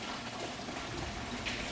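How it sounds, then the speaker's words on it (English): Leftover water drains out of the cooling system of a Subaru WRX STI Pikes Peak race car sitting on a lift, making a steady, continuous splashing pour at moderate distance with no talk over it. "There's all the water that's left is coming out"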